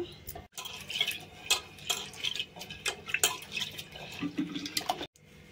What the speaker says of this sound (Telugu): దానికి సరిపడా పప్పు కడుక్కుందాం శుభ్రంగా